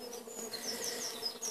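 Honeybees buzzing around a hive entrance, a steady close swarm hum with individual bees zipping past, continuous and fairly faint.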